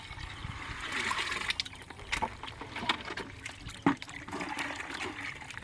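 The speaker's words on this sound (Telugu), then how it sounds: "ఇదిగోండి ఈ బెల్లం కలిపిన నీళ్ళు ఇలా పోస్తున్నాయి అన్నమాట" Jaggery-mixed water pours and splashes steadily with trickling and gurgling, close by, with a brief knock partway through.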